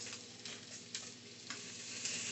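Blackened tilapia sears in a hot pan with a steady, fairly quiet sizzle and faint periodic ticks or scrapes, without any talking.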